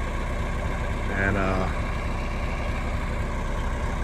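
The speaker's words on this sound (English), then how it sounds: "Old tractor's done a good job pulling, as it should." A John Deere 3020 tractor, almost 50 years old, runs with a steady low engine drone while pulling a trailer, and someone speaks briefly over the engine.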